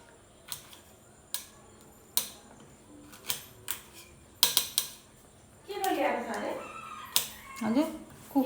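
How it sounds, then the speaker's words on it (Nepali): A local chicken crows and clucks briefly nearby, breaking through a steady run of sharp metallic clinks and taps from kitchen utensils in a quiet household. "कुखुरा लोकल कुखुरा"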